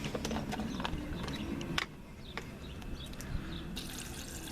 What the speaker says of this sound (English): And get some water in there.